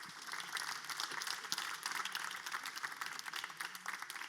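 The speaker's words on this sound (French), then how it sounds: "on va vous accompagner avec des applaudissements jusqu'au mur de photos" Audience applause at a regional trophy awards ceremony in France, a steady wash of many hands clapping at moderate distance, fairly quiet and even throughout, with faint voices underneath.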